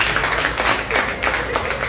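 An audience at a live performance in Houston, Texas claps and applauds, a dense continuous wash of many hands, loud and steady throughout.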